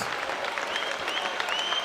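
Crowd applause at a professional boxing match, a dense continuous clapping that is loud and sustained throughout, with a few faint whistles over it.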